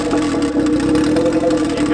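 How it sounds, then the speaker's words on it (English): A turbocharged Honda Civic engine runs steadily at close range, a continuous mid-pitched idle hum with a fine rapid pulsing and a light mechanical buzz throughout. "I'm gonna just try starting it and putting it in gear"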